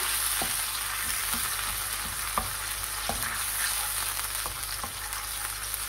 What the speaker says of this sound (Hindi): अब मैं इसमें टमाटो पेस्ट या टमाटो प्यूरी डाल रही हूँ अच्छे से मिक्स करेंगे